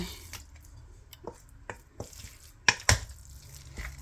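A spoon stirs food with garlic in a pan: scattered scrapes and taps over a soft low sizzle, with two sharper knocks of utensil against the pan near the end.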